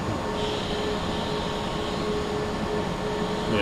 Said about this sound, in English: Yeah, the engines can be pretty loud.